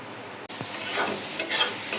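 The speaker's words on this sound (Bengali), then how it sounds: "শাকটাকে এখন আমি এভাবে চারিদিকে ছড়িয়ে দিয়েছি যাতে পানিটা শুকিয়ে যায় এবং শাকটা তাড়াতাড়ি ভাজা ভাজা হয়ে যায়" A steady hiss of leafy jute greens frying in a pan, with a soft clatter of stirring partway through and no voices.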